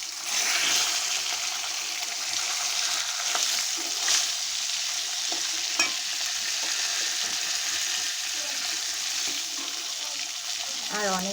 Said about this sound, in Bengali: রুই মাছটাকে ভাজা বসিয়ে দিয়েছি।